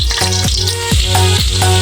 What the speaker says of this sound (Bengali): কড়াইতে আমি সাদা তেল দিয়েছি, তেল গরম হয়ে গেছে, এর মধ্যে আমি বাটা দিয়ে দিচ্ছি